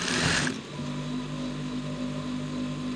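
A sewing machine stitches down the pocket bag on a pair of joggers or sweatpants. A short noisy rustle comes first, then a close, steady motor hum continues without a break.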